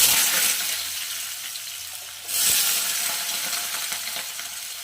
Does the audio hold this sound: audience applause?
no